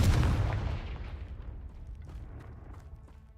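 A Confringo fire spell blast from the video game Hogwarts Legacy, cast at Rookwood's poachers by the Phoenix Mountain Cave, opens with a loud booming burst that decays over about three seconds into a faint rumbling tail.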